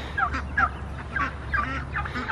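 Two farm turkeys gobble in a flock, a series of short, rapid warbling bursts repeating every half second or so at moderate distance over a low background hum.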